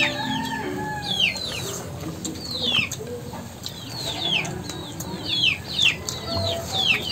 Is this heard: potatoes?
no